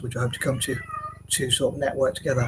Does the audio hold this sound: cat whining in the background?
yes